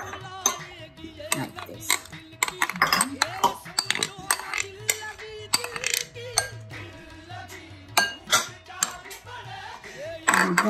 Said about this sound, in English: now in the end we're going to mix this flour in it